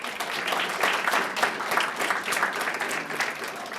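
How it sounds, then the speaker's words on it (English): Steady applause from the audience at an early college and academy graduation celebration, honoring the graduating seniors; dense, even clapping throughout, moderately loud with no talk over it. "another round of applause for you all."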